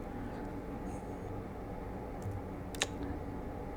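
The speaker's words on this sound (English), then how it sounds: "So I'm gonna type the web address." Computer keyboard being typed on to enter a web address, with faint, sparse key clicks and one sharper tap over a steady low background hum. No talking.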